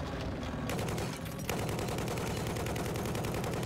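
Rapid bursts of .50 caliber heavy machine-gun fire in Battlefield 4, in quick succession, loud and sustained, with a brief gap before the shooting resumes.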